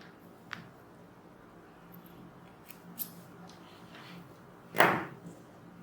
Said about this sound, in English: I am trimming my thread.